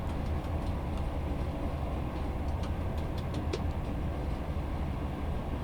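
A ScotRail Class 158 Sprinter diesel unit runs steadily on the Fife Circle Line in Train Sim World, a constant low rumble of engine and wheels with faint ticking clicks from the track, no voices.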